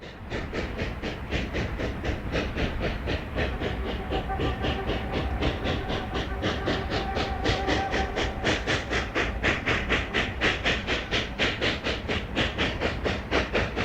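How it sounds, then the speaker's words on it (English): A pair of K-36 2-8-2 Mikado narrow gauge steam locomotives moves around a small summit yard at Cumbres Pass, with steady rhythmic chuffing and hissing steam throughout, close and loud, overlaid with clanking wheel noise. "A pair of K-36 282 Mikados are seen moving around the small yard at the summit of Cumbres Pass."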